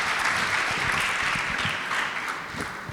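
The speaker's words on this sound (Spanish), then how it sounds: "Un aplauso para los panelistas y un aplauso también para ustedes" Applause for financial-sufficiency panelists and the audience fills a hall, dense and steady at full strength for the whole stretch, with faint voices underneath.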